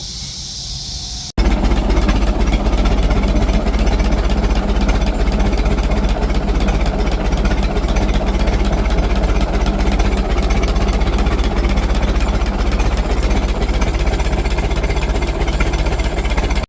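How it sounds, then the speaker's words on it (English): Stationary engine running at the Prairie Village show, a steady loud mechanical drone with dense rhythmic knocking that starts abruptly after a brief quiet moment and continues unbroken, up close. "I was able to get some video of this stationary engine running earlier today."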